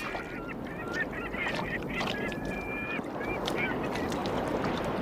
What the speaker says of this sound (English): With gulls for an audience